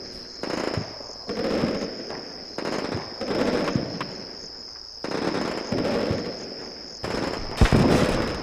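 Flanking gunfire in Combat Mission Shock Force, German Gebirgsjäger against Syrian Special Forces: repeated bursts of rapid crackling fire from the side, rising and falling in clusters, over a steady high-pitched whine.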